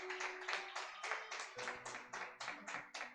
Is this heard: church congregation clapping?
yes